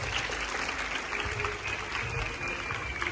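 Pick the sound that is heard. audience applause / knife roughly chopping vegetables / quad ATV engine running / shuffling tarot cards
audience applause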